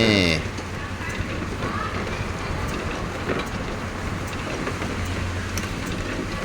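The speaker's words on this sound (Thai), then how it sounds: "ตัวนี้จะเป็นเครื่องนะครับคัดไซได้ 6 เบอร์" An egg sorting machine that grades eggs into six sizes runs with a steady mechanical rumble and rattle, close and continuous, with faint clicks over it.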